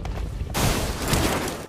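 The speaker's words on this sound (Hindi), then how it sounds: "अब सड़क के उस पार से गोली चली थी" Video-game gunfire from across a road, a sudden loud burst of shots that cuts in after a quieter moment and rattles on as a sustained barrage.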